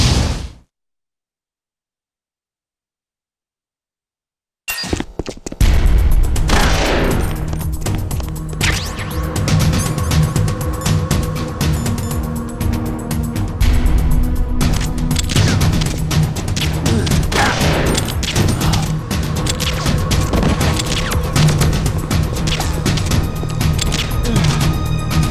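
Gunfire rattles in the GameCube video game Metal Gear Solid: The Twin Snakes. A few seconds of near-silence give way to sudden loud, dense bursts of shots and crashing impacts that continue steadily to the end.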